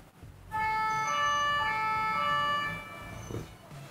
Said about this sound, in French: fais sonner ton ambulance